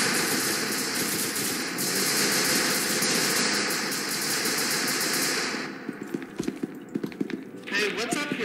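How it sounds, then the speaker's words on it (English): Sustained rapid automatic gunfire in the video game SCP: Secret Laboratory, loud and continuous, thinning into scattered separate shots near the end, with voices talking over it. "Why are you guys all shooting?"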